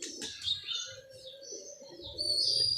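A pigeon close by gives soft, low cooing calls over bright chirping from other birds in the background, with no one talking.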